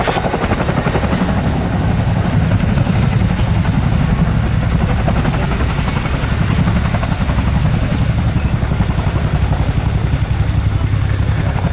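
A Royal Air Force Boeing Chinook HC.6 helicopter at the Cosford Air Show gives off a loud, steady, unbroken rotor and engine roar throughout, close by and heavy in the low end.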